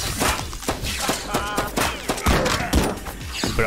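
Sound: rifle gunfire in MADNESS: Project Nexus video game

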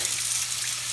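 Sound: tap water running in kitchen sink, rinsing

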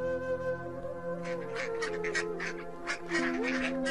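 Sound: ducks quacking by a pond in a cartoon

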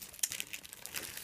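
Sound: crinkling plastic bags being filled with chocolates

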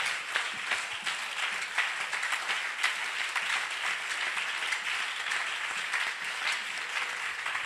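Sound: congregation clapping hands

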